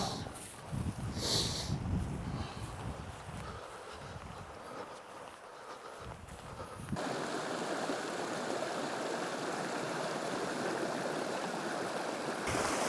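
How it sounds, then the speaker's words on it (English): Steady rushing water of a wide creek on Adak Island, a continuous broadband wash that grows louder and fuller partway through, with some wind buffeting the microphone and no talking. "We're in a bigger creek, wider one."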